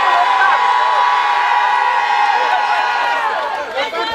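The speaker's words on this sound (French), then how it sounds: "Applaudissements pour les femmes." A political rally crowd cheers and whoops loudly for the women, a dense sustained roar of many voices with some shouts rising near the end.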